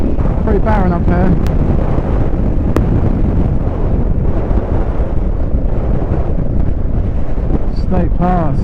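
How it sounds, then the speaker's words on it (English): Heavy wind roars across the microphone on a motorcycle ride over a barren Scottish mountain pass, a loud constant rumble blanketing everything, with a rider's voice speaking briefly through it. "Tell you what though, oh, it's windy."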